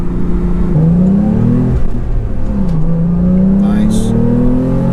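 A Porsche 911 Carrera T flat-six revs during a rev-matched downshift, its engine note rising and dipping through the shift, heard from inside the cabin under steady road noise.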